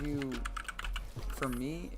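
Keys pressed on a fast keyboard priced around $80 make quick, clustered clicks, heard under a voice that talks across the whole moment.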